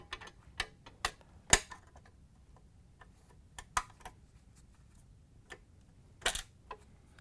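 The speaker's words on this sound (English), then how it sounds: "We're going to take a flathead screwdriver and pop that off." Flathead screwdriver prying an E-clip off an auger shaft in a Frigidaire/Electrolux front housing, faint scattered metallic ticks and small snaps, close but quiet, with a couple of sharper clicks standing out.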